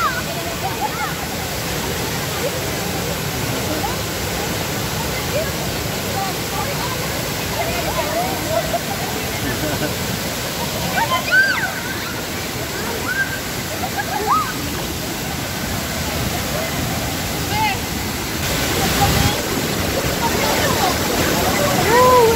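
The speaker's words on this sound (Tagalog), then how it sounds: "Taytay Falls" Taytay Falls in Laguna province roars in a steady, loud, broadband rush of falling water that fills the whole scene, with occasional faint voices mixed in.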